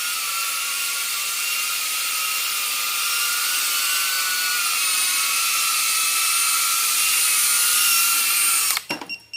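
A small GPS cinewhoop FPV drone flies nearby with a continuous high-pitched propeller whine at steady loudness, then cuts off abruptly at the end with a few clattering knocks.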